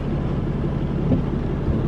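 Rainwater runs down swales cut with a tractor and box blade after Easter 2020 storms in Columbus, Mississippi, giving a steady broadband rushing wash without talk.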